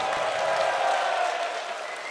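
An esports tournament crowd at The Grand Major 2025 finals applauds player Arco with dense, steady clapping and cheering that eases slightly toward the end.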